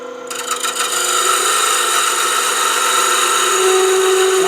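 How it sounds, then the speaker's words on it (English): Beading and parting tool cutting into spinning wood on a lathe while turning a lantern ornament, a loud, continuous close-up rasp with a steady whining tone that rises slightly toward the end. "my beading and parting tool makes it really easy to come down and take that"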